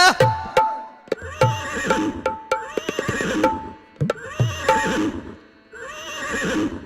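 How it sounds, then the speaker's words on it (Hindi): A horse whinnies and neighs repeatedly in loud, close bursts, several long quavering calls separated by short gaps, with faint clip-clop sounds between them. "आ राजा के घोड़ा द्वार पर हिकार मार रहले"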